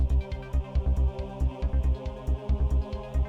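Who Wants to Be a Millionaire $100 question sting: a pulsing, rhythmic music cue with steady low throbs and bright ticking accents, played alone at moderate level.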